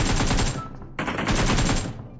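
Rapid automatic gunfire in PUBG Mobile, a dense rattling burst that halts briefly near the middle and then resumes, loud and close.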